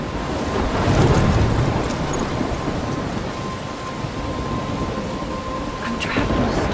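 A thunderstorm in the video game Life Is Strange, with steady heavy rain and wind, a low thunder rumble swelling early and continuing throughout at constant loudness.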